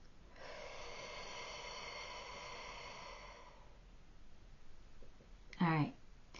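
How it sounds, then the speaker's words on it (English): A single slow, deep breath drawn in and let out by a woman in a quiet room, followed by a brief sharp snort-like exhale near the end. "Take a deep breath with me."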